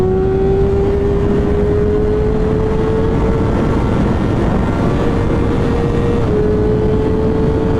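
A 2025 Kawasaki ZX6R motorcycle revs hard while riding, a loud, steady engine whine that climbs slowly in pitch under heavy wind rush, with no break for the whole stretch.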